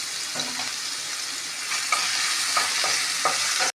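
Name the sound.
crushed ginger and garlic frying in oil and ghee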